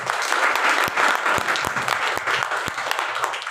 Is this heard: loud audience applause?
yes